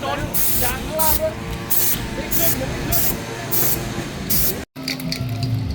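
Gloss coating liquid sprayed onto a military tank at a battalion anniversary event, heard as a run of loud, regular hissing spray bursts repeating about every half second, with voices talking underneath.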